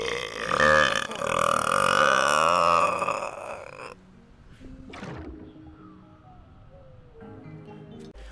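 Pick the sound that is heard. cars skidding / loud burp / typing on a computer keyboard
loud burp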